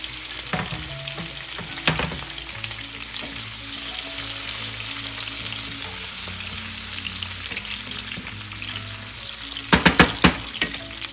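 Tomatoes cooking with browning meat in a frying pan for turuchas: a steady, close sizzle throughout, broken by a few scraping stirs and clatters near the start and end.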